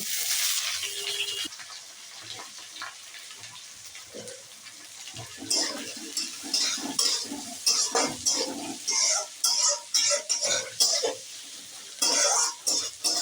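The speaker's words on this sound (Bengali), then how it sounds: "কুচানো পেঁয়াজগুলো তেলের মধ্যে দিয়ে দিচ্ছি।" Chopped onions frying in oil with kalonji in a kadai as an egg curry starts, a soft sizzle under repeated scraping stirs of a spatula against the pan that grow louder and more rhythmic in the second half.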